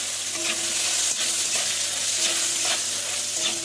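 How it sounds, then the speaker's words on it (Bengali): Pointed gourd (potol) frying in hot oil: a dense, continuous sizzle with soft stirring scrapes, loud and close, with no talk. "আবার তেল আছে সেটার মধ্যে কিন্তু আমি পটলগুলো ভেজে নেব।"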